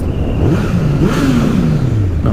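A car's exhaust revs close by, the engine note climbing and falling in a loud, steady rumble for a couple of seconds.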